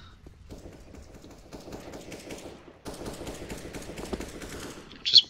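Rapid bursts of gunfire rattle in Counter-Strike: Global Offensive during a competitive match on an apartments area, dense automatic shots continuing for several seconds, fairly faint with a brief sharp sound at the end.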